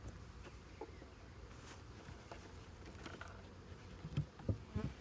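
A faint, steady buzzing drone of honey bees around their hives in the background, with occasional low clucks from nearby chickens.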